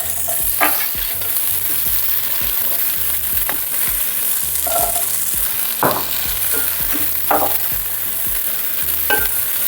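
Chinese fried rice is stir-fried in a pan over a constant loud sizzle, with a spatula scraping and tossing it at irregular intervals.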